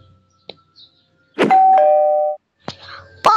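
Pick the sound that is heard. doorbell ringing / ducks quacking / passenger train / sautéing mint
doorbell ringing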